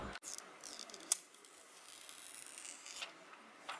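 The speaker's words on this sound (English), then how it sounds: "let's peel off that plastic." Protective plastic film peeled off a blue Redmi K20 phone, a close crinkly rustle and stretching hiss with a few sharp snaps and ticks over a few seconds, no talking.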